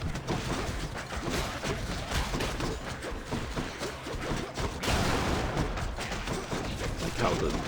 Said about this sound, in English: Like how the special is just an explosion.